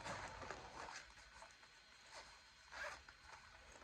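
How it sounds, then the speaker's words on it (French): Zipper on a small denim bag shaped like a hamster, pulled open and shut in several quick rasping strokes, close and fairly faint, with no voices. "Donc vous avez une fermeture éclair derrière là."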